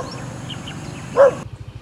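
A single short bark or yelp from one of two stray dogs on a road rises out of faint background rumble, brief and moderately near.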